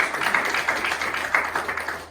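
A church congregation applauding in worship, a dense continuous patter of many hands clapping, steady and moderately distant.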